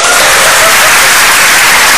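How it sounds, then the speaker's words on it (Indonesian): Loud, dense clapping comes from a stand-up comedy audience at an Indonesian show, sustained and close throughout the brief stretch. "Tepuk tangan untuk Dimas"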